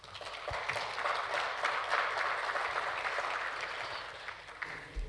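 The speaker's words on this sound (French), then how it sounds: "Je vous demande d'applaudir." An audience at a French Olympic committee gathering breaks into sustained applause, a broad wash of clapping that swells, holds and tapers off near the end.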